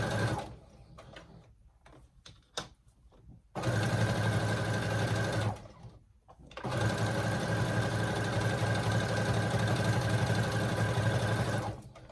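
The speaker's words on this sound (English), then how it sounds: "And then start sewing. Make sure you back stitch. Sew it all the way down." A sewing machine stitches t-shirt knit fabric for a dress, running in two long, loud, steady bursts separated by a brief pause, with soft handling noises before it starts.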